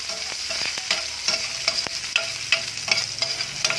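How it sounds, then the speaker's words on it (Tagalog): Chopped ginger sautés in olive oil for squid adobo, a steady high sizzle broken by regular scraping stirs of a utensil across the pan, close and clear with no voices. "uunahin natin tong luya na igisa. Haluin lang natin yan para pumantay ang kanyang pagkakagisa"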